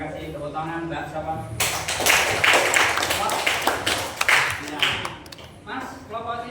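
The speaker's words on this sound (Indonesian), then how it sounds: "Tepuk tangan" A classroom of students breaks into a burst of hand clapping, a few seconds of mixed claps between a teacher's spoken lines before and after.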